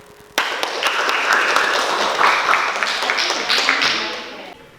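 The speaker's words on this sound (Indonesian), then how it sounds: "mari kita sama-sama memberikan aplaus untuk kelompok 1" Group applause from a classroom of students at a vocational high school, a sustained wash of clapping that starts abruptly, holds steady for several seconds with scattered louder claps, then fades out.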